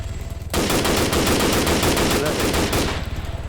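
A sudden burst of rapid automatic gunfire in the video game Arma 3, rattling continuously for about two and a half seconds, loud and close, over a low mechanical hum.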